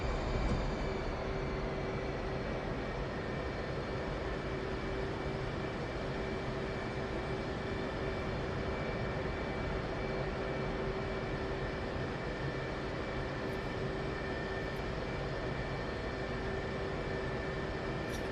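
A warbird aircraft engine spools up in the DCS flight simulator, a loud, steady droning roar with a faint whine that holds for the whole stretch with no voices.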